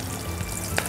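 Floured prawn heads deep fry in hot oil, giving a steady, close sizzling hiss with a small crackling pop near the end and no talking.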